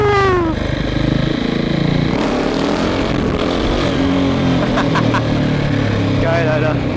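A KTM 690 SMC R motorcycle with a Leovince exhaust revs hard for a wheelie, its single-cylinder engine rising sharply in pitch, then droning on loud and close at speed with rushing wind.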